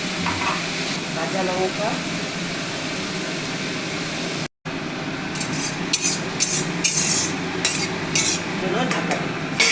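Spinach greens with salt and green chili fry in a pan with a loud, continuous sizzle. A utensil stirs and clinks against the pan, the sound briefly cuts out, and a voice speaks a few words.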